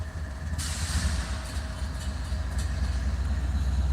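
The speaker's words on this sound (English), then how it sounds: "That is a train." A low, heavy rumble of a train passing trackside at Mount Hope, West Virginia, steady and loud throughout with a constant hiss of wind and rolling noise over it.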